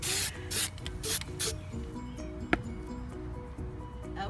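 Aerosol gold spray paint hisses in several short bursts over Dollar Tree candle holders, close to the microphone, followed by quieter rustling and a single faint clink.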